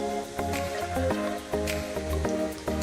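Lemonade pours into a container with a close, gurgling splash, dense bubbling and a few heavier glugs, running steadily without speech.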